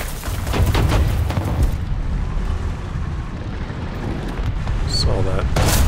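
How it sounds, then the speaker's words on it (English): Distant bomb blasts rumble as low booms in a War Thunder ground battle with a Chi-Ha tank, the heavy rolling thunder sustained beneath steady engine and battle noise, with a person talking over it. "I hear bombs."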